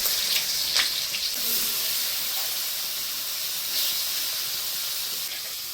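Fish sizzling in hot oil in a kadai, a steady loud hiss throughout with a few brief louder crackles near the start.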